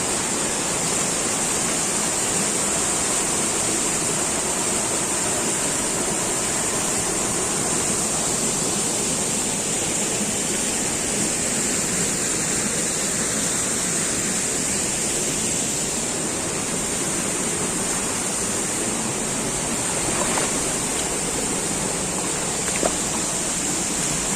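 Water rushes at Keralamkundu waterfall with a dense, unbroken roar that holds at a steady loudness throughout, close by and with no voices.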